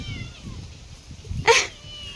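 A single short cat meow rings out clearly near the end, following quiet low background rumble.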